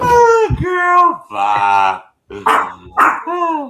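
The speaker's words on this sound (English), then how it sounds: "That's my dog barking, y'all." A pet dog barks and yips in short, loud bursts close by, mixed in with a person talking over it.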